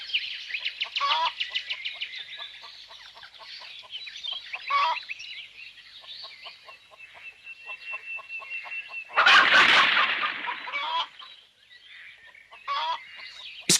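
Cartoon farm hens roaming freely, clucking in quick rhythmic bursts with repeated pecking-like pulses, one louder squawking flurry in the middle, moderately close and without speech.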